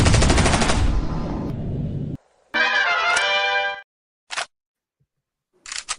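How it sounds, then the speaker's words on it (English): A gunshot sound effect bursts out after a countdown: a long, loud, crackling rapid-fire blast, then a second metallic burst and several short sharp reports separated by silence. "Nice touch with the gunshot."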